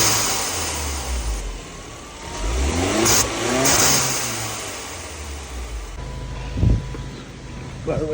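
A 2020 Genesis G70 2.0T fitted with a homemade blowoff valve revs up and back down several times, with its engine note swelling and fading and a sharp burst near the end.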